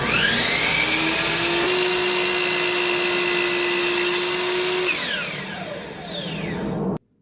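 Shop vacuum roaring steadily through the dust-collection hoses of a woodworking shop, a loud, even whine with a shifting pitch that drops off abruptly as the machine shuts down at the end.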